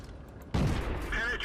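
A World of Tanks shell strikes the player's tank with a sudden heavy boom that rings on with metallic resonance, set against a low engine hum and followed by a short ringing tone.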